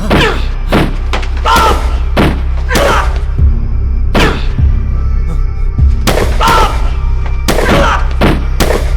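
Loud gunshots boom close by, about a dozen sharp blasts fired at uneven intervals, some in quick pairs.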